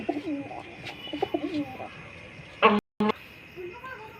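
A pigeon coos softly a few times close by, with a brief louder burst of sound and a short gap near the end.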